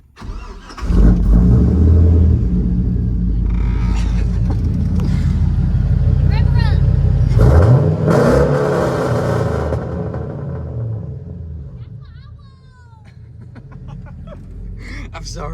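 Manual V8 car fitted with an equal length exhaust, its engine starting and revving loudly up close with a deep sustained rumble, easing off toward the end; people talk over it.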